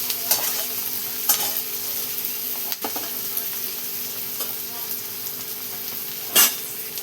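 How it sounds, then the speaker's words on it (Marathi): Chopped onion stirred and frying in a pan for a raw tomato chutney, giving a steady broadband sizzle with a few sharp scrapes of the spoon against the pan, fairly close and with no talking. "आणि छान असं मिक्स करून घेतलेले बघा कांदा आता"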